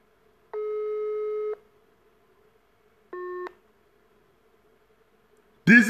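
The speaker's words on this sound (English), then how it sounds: "It's ringing. It's ringing. It's ringing." A phone call's ringing tone sounds twice, a long steady electronic tone followed by a shorter one, with quiet gaps between and a voice starting at the end.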